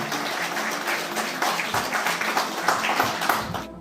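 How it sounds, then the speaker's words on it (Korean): Audience applause greeting the new branch president at a Korean restaurant association inauguration ceremony, a steady wash of many hands clapping together for several seconds, fairly loud and close, then cutting off. "임직 여러분 힘찬 박수로 맞이해 주시기 바랍니다"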